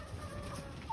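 A young rooster gives a faint, brief call from some distance, set against a low, steady background hum.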